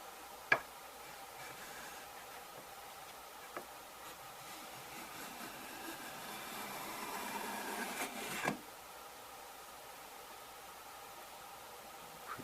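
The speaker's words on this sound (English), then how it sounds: "Fine shaving. Well, that's working pretty good." Stanley 151 spokeshave, its iron and lever cap tuned with the cap iron pulled back, taking a fine shaving from wood: a quiet, steady hiss of blade rubbing across the grain, building between a few light knocks and ending with a sharp tap.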